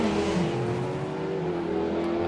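Loud, continuous engine roar of a doorslammer drag car at the start line, steady and close throughout with a sustained low drone and no talk.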